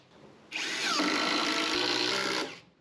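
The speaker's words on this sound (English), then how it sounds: "just get two bugle screws onto either side of the outriggers" A power drill drives bugle screws into timber outriggers on a carpentry job, one sustained whirring run of about two seconds that starts abruptly and winds down, close and alone.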